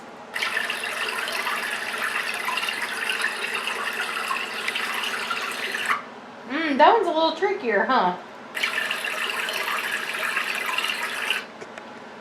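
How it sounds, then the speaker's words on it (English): Broadband rushing water burbles continuously over rocks, broken midway by a brief spoken remark before the steady stream sound returns. "that's the sound of water on rocks, like in a little stream or something."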